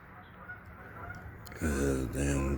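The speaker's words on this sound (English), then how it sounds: "damn geese" Geese honk loudly in a couple of harmonic bursts close by, following a stretch of quiet room noise with faint background murmur.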